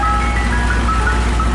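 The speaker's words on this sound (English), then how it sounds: "The ice cream man come to the rescue." An ice cream truck plays its jingle loudly and close by, the tinkling melody notes gliding over a steady engine rumble, with no one speaking.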